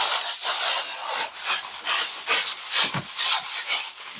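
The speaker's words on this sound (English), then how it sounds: "just gonna put the cover, aluminum foil over this" Aluminum foil crinkles and rustles as it is pressed over a turkey breast for roasting, with a close series of bright scrunching bursts and no talk.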